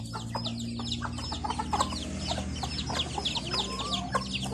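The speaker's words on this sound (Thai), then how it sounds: "ไก่บ้านเลี้ยงเองครับ" Free-range native chickens clucking in a farmyard, many overlapping clucks and calls at close range, steady and busy throughout.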